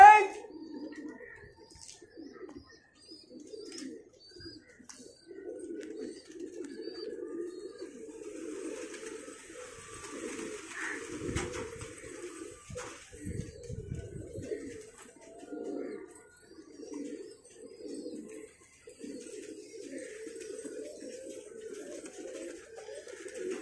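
Soft, repeated cooing from pigeons on a rooftop loft, low throaty bubbling phrases running almost nonstop at moderate distance, with a few brief chirps and some voices talking in the background.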